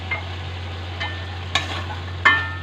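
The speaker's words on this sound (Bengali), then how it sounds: "আলুটা দিয়ে ভালো করে নেড়ে দিচ্ছি।" Potatoes are stirred into drumstick stalks simmering in a pot, a few scattered scraping and clinking strokes of a spoon over a low steady hum.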